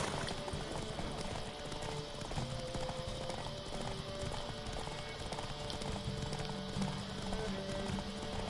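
Galloping horse hoofbeats in a Witcher 3 horse race, a rapid rhythmic clip-clop running steadily under game ambience and a voice talking.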